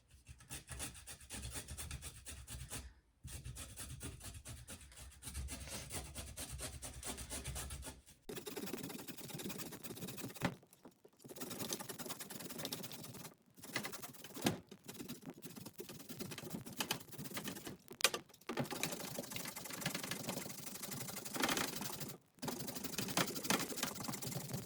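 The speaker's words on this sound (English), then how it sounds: "So now we will grate our carrots." Carrots rasp against a box grater in steady back-and-forth strokes, a continuous scraping texture broken by a few brief pauses, close and fairly quiet with no talk.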